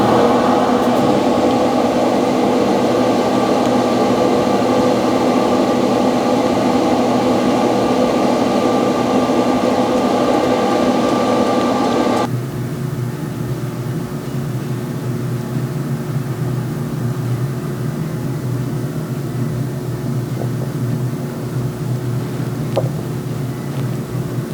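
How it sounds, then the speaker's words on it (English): A Z Grill pellet smoker fires up outdoors on a cold early morning, giving a steady loud fan-and-burner roar. About halfway through it drops to a lower, quieter hum that continues to the end, with no talking. "Let's fire up this Z grill and let's get some pork butts going."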